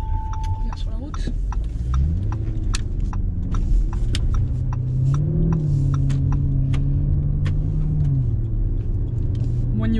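Lamborghini Urus SUV rolling back onto the road after off-roading, a steady engine rumble with slight throttle swells running under continuous talk from inside the cabin.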